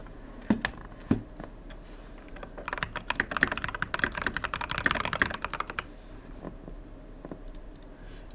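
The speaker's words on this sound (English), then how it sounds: "I know folks can hear me on my controller and keyboard." Typing on a computer keyboard during an Elden Ring session: a few isolated key clicks, then a quick burst of rapid close typing in the middle, fading back to scattered taps.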